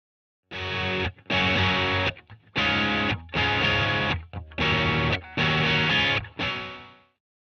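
Heavily distorted electric guitar chords in three thick, blended layered parts, played in loud bursts separated by short gaps, ending on a sustained fading chord.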